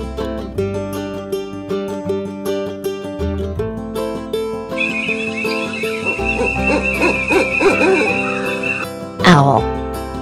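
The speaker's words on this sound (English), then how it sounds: "Owl." An owl hoots over a bouncy children's song backing track, the calls standing out against steady music throughout.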